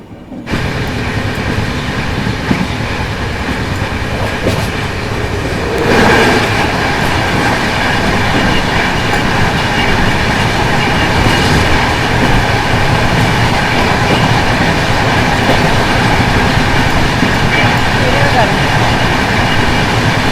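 A passenger train pulls away from Lakhtar railway station on a Dwarka to Mumbai journey and settles into a loud, continuous rumble with rhythmic clatter from the wheels. Voices are heard at times under the rail noise.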